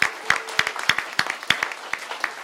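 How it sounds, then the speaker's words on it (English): Audience applause at a county Democratic party gathering, a burst of many hands clapping in a dense, steady patter that carries on for a couple of seconds at moderate loudness. "I think we need to get a little applause for that."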